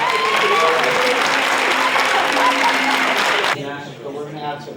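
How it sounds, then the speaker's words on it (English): A talk-show studio audience claps loudly and steadily for about three and a half seconds, then the applause cuts off and a voice begins speaking. "Please give them a round of applause, everybody."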